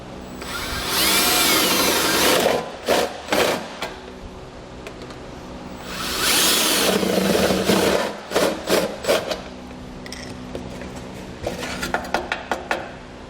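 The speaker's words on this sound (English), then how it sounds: "you're going to have to drill a couple of holes" A power drill whines loudly in two long bursts, each followed by a series of short stuttering pulses as holes are drilled for a trailer hitch on a 2019 Subaru Forester, close up.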